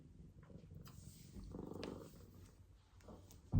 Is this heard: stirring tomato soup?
no